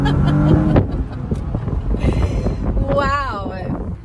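A 2016 BMW 435i convertible accelerating hard, engine roar mixed with heavy wind buffeting around the open cabin, loud and close, with people's voices heard over it.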